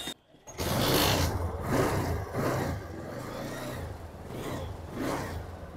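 A rebuilt TVS Apache RTR motorcycle engine starts and runs, catching after a brief quiet moment and then revving up and down in uneven swells, close and fairly loud, with no voices.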